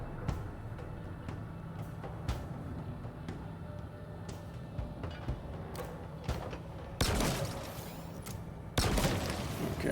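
Gunshots in the Halo Infinite video game, campaign mission Nexus: scattered sharp cracks over a low rumbling ambience, then two louder, heavier blasts near the end.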